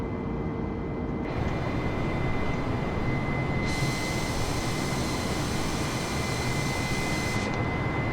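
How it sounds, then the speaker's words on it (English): Steady, loud roar of a commercial jet engine in a flight simulator on a Portland to San Francisco flight, a continuous broadband rush that brightens partway through. "You're flying a commercial jet."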